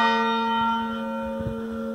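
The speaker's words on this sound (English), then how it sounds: "So the church bell isn't this fancy as you can hear." A church bell in the old town of Calw rings a single sustained stroke, its clear humming tone ringing out and slowly decaying, moderately loud with no talk.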